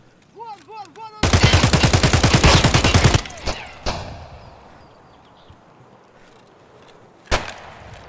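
Rapid automatic gunfire in Escape From Tarkov, a loud sustained burst of about two seconds with dense repeating shots, followed by a few scattered single reports and a final sharp shot after a quiet stretch.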